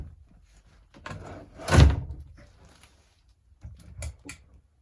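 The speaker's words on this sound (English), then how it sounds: "If you pull them opposite ways of each other, it'll allow this drawer to slide out of place." A single sliding thunk of a drawer being pulled out of a 2025 Forest River Wildwood 42DL travel trailer, fairly close, with a few softer knocks and clatter afterward.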